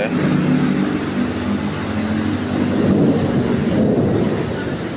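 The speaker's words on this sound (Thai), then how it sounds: "ฟ้าแลบฟ้าร้อง" A heavy tropical rainstorm on a flooded street roars steadily, with low rumbling thunder rolling underneath the dense, continuous hiss of rain.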